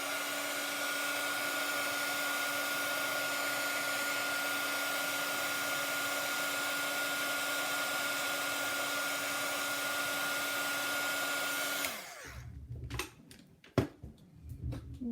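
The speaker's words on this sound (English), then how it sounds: "And use my heat tool" A crafting heat tool melts silver embossing powder with a steady, loud, airy blowing hum that runs for about twelve seconds, then stops, leaving a few light handling clicks and taps.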